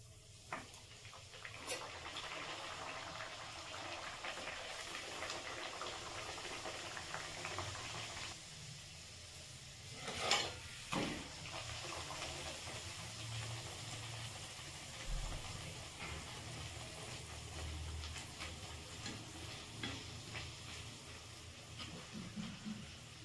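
Matar koraishuti kachori deep frying in hot oil, a steady close sizzling hiss throughout with a few brief clatters and no talk.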